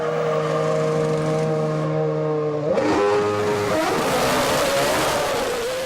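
A 2006 Formula 1 car of Button exiting the pits: a loud, high engine whine holds a steady pitch, then jumps and climbs sharply as it accelerates away, close and alone.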